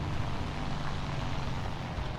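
An airplane in the online war game War Thunder drones steadily with a low, rumbling engine roar, continuous and fairly close, with no talk over it.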